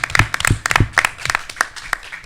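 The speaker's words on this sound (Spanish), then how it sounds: "Uma salva de palmas para ele," A small seminar audience gives a brief round of sparse applause, with distinct individual claps close by and uneven in rhythm, thinning toward the end.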